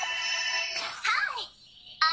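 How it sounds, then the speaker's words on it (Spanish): A telephone rings in an anime episode, a bright electronic trill heard up close, then cut off by a short sweeping burst and a second ring at the end. "Es un teléfono."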